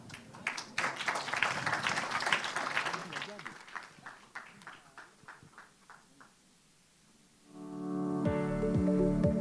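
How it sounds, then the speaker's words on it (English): Conference audience at an infrastructure session claps for the panelists, a dense burst of applause that thins into scattered individual claps before a voice and music-like tones take over. "Please give a round of applause for our panelists today"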